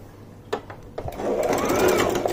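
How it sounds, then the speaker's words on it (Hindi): Electric sewing machine stitching the neckline of a readymade kaftan: a few short clicks and taps, then a steady close whirring run of stitches that continues to the end. "तो यहां लगानी है हमें सिलाई।"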